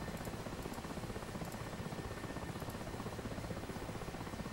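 Several KA-50 attack helicopters hover in a VR flight game, giving a steady, muffled rotor thrum with a faint rhythmic pulse that holds evenly throughout at a low, distant level.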